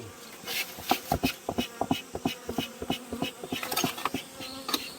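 Insects buzz close by at a rural honeybee site in the countryside, with repeated short, sharp buzzes and passes rising and falling over a low hum, no talking.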